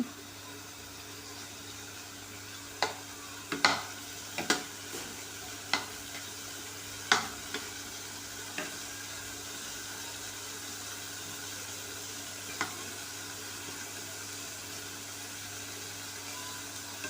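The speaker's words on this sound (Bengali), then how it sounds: "উচ্চটা ভাজতে একটু সময় লাগে তাই জন্য উচ্চটা আগে ভেজে নিচ্ছি" Bitter gourd frying in a pan, a soft steady sizzle under a constant background hum, broken by a handful of sharp clicks and scrapes of stirring, mostly in the first half.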